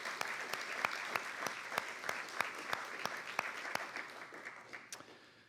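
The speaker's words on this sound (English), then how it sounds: "So let's give them a round of applause." Audience applause for World War II veterans, survivors and homefront workers at a women's history symposium, a dense sustained clapping crowd with sharp individual claps standing out, gradually tapering toward the end.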